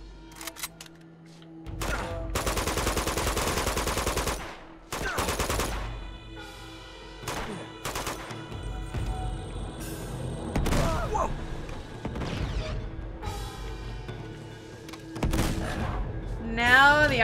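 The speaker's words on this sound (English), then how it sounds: "RPG guy is shooting me again." Uncharted 2 gunfire and RPG shots aimed at the player, heard as sustained automatic bursts and sharp single shots with loud blasts, mixed with game music and a voice talking.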